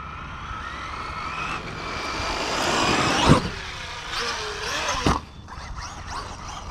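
A Traxxas Maxx Slash RC truck with a Castle 2400 kV motor on a rough run, motor whine rising and falling across a few seconds, with two sharp impact thumps as it lands or hits terrain.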